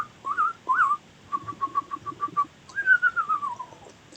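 A man whistles in imitation of birdsong: a few rising chirps, a run of short evenly spaced notes, then one long gliding whistle that slowly falls in pitch. It is clear and close, with no talking.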